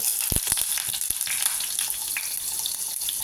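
Butter sizzles and crackles in hot coconut oil in a pan, a steady close hiss with a few sharp pops near the start.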